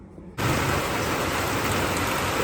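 Rainwater pouring from a roof downspout at an off-grid cabin, a dense steady rush of water that starts abruptly and keeps going loud and close.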